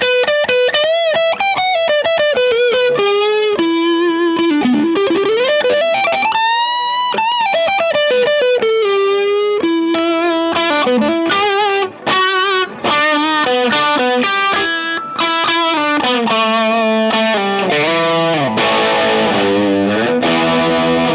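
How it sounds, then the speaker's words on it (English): An electric guitar lead tone runs through an OCD overdrive pedal with a boost, plus reverb and delay, playing a sustained, bending melodic line with saturated harmonics, loud and alone for about twenty seconds. "for playing leads, what we have is button 5 is the OCD with the boost."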